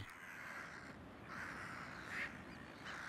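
Seabirds call on Egg Island off Saint Helena, a faint distant wash of harsh, overlapping cries with a few slightly louder calls rising from the steady background.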